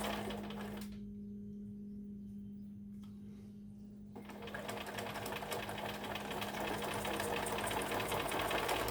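A home sewing machine stitches with blue thread, running in a steady close whir that stops briefly, then resumes louder and more rattly, with a constant low hum underneath and no talk.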